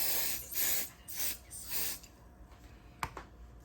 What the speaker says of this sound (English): you're gonna take your adhesive and you're gonna spray it on the back